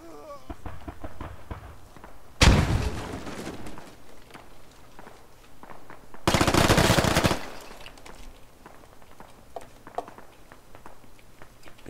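Gunfire erupts in the military shooter Squad: two loud, dense bursts of rapid automatic fire, each a second or so long and a few seconds apart, stand out over quieter footsteps and scattered distant shots.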